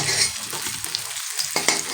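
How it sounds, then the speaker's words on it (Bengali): Rohu fish pieces fry in hot oil in a wok, giving a loud, close, continuous sizzle with crackling pops and scraping stirs. "এভাবে লাল লাল করে ভেজে নেবে"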